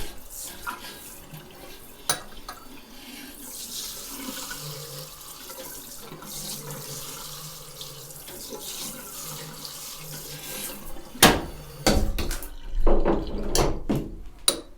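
Water sprays over a saltwater fishing reel to rinse off the salt, a close, continuous hissing flow, then sharper splashes and handling clatter near the end.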